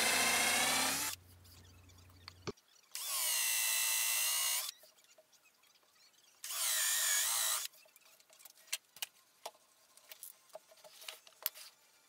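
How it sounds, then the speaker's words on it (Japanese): A power drill boring a counterbore into wood with a Forstner bit, in three separate loud whirring bursts of about one to two seconds each, with quiet clicks and handling noises in between. "フォースナービットで座繰りを開けたので中心が見えています。"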